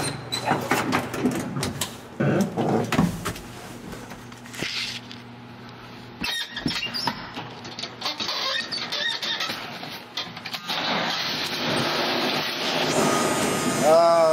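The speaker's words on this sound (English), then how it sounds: "now that we got the exhaust on it, let's fire this thing up" A Chevy engine with newly fitted exhaust and an exhaust leak cranks and catches, then runs with a steady, rough mechanical drone, building to a louder sustained idle toward the end.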